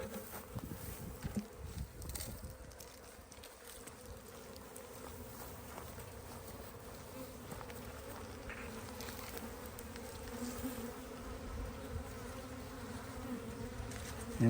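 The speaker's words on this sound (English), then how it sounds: "we are capturing bees at this time" Honey bees swarming during a hive inspection as frames are handled, a faint, steady droning buzz of many insects around the open boxes, with occasional soft knocks and handling noises.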